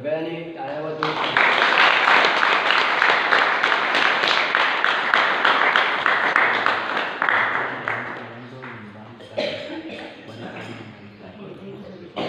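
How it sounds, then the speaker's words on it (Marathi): A crowd applauds at a Shri Ram Pran Pratishtha celebration, a broad, steady burst of clapping that swells for about eight seconds before thinning out, with voices talking around it near the end. "सगळ्यांनी टाळ्या वाजवून"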